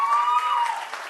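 Brief burst of crowd applause at a traditional engagement ceremony, steady and fairly close, lasting about a second.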